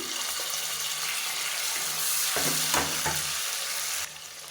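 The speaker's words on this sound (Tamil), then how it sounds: "இப்போ வெங்காயம் ஓரளவுக்கு நல்லா வதங்கிடுச்சு" Onions frying in a pan for tomato rice give off a steady, close sizzle with a few stirring clatters in the middle, then the hiss drops to a quieter level near the end.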